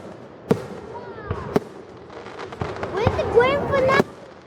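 Fireworks exploding outdoors at a 2013 show in Lewisville, sharp cracks and bangs mixed with whistling and crackling bursts, with people talking and reacting nearby.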